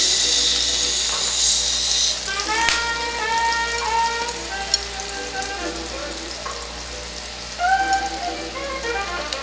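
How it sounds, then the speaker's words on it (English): Apple pieces drop into a hot pan and crackle with a bright, steady hiss of frying, close and loud at first, with soft music playing underneath and no talking. "I'm going to start adding the apples to the pan. You hear that yumminess?"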